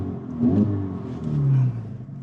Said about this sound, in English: You can hear the turbo spool up and the blow off valve just like go shh.